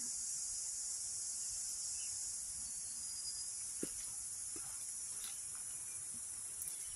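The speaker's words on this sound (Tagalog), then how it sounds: "ingay ng sapa at saka yung kuliglig." Dense, steady high-pitched cricket chirring fills the jungle air on Needle Hill near a creek, constant and unbroken, with a few faint distant clicks and rustles underneath.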